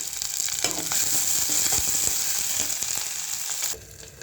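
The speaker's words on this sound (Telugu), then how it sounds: "ఆలుగడ్డ ఉల్లిగడ్డ వేగుతుందండి" Potatoes and onions with a little cumin sizzle steadily in a hot pan, a close, continuous frying hiss broken by occasional scraping and stirring, which drops off abruptly near the end.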